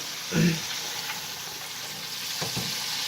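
Gluten-free breaded chicken wings fry in a pan with a steady, close sizzle, joined by a couple of brief clatters from stirring or turning, and no clear talk.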